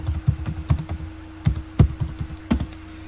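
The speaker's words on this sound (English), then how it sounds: "so just type that" Keystrokes on a computer keyboard as a password is entered at a login screen, a quick irregular run of distinct clicks and taps, close and fairly clear, over a faint steady hum, with no talking.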